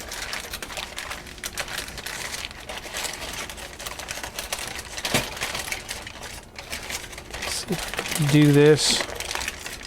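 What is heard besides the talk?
aluminum foil being folded and creased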